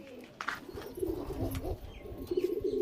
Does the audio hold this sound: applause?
no